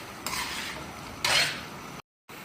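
Chicken powder is mixed into karahi masala in a pot, with a steady frying hiss under two brief bursts of spoon scraping, then a short sudden silence before the sizzle resumes.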